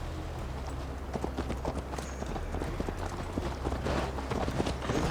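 Hooves of a horse galloping in Assassin's Creed Valhalla, ridden on a long journey: a steady, rapid clip-clop rhythm, close and continuous, over a low rumbling ambience.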